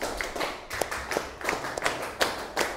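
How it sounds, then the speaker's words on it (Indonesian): Classmates clap for group 8 after its presentation, a loose scattering of individual hand claps with irregular rhythm, fairly close and moderate in loudness. "Tepuk tangan lagi buat kelompok 8."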